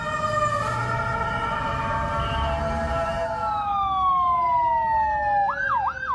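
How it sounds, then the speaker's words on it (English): Wailing ambulance sirens at the scene of an aircraft incident in Bangkok, several overlapping tones sliding up and down, loud and continuous over a rumbling background, ending in a rapid yelping warble. "A stream of ambulances rush to the scene."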